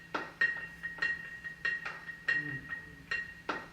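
A quiet percussion loop in an Ableton beat with the low end cut out, light clinking, glassy hits and shaker-like ticks in a steady pattern sitting in the background.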